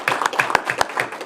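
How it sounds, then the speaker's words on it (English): A few people at a city park board meeting clapping, sparse individual claps in an uneven rhythm over a little more than a second, fairly close. "Let's give him an applause."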